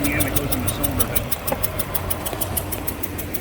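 Car engine running with a suspected fault, a rough, rhythmic ticking and knocking idle with regular sharp pulses under a loud mechanical drone.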